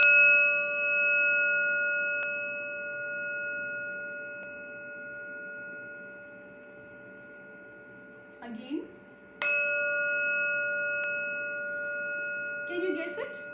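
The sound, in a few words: singing bowl being struck and ringing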